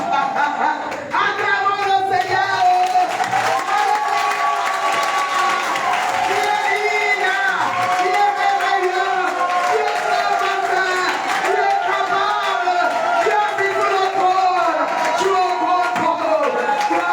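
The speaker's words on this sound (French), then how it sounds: "Acclamons le Seigneur." A church congregation claps and cheers in acclamation of the Lord, a dense, steady crowd roar with rhythmic applause, under a loud voice and sung or shouted praise that carries throughout.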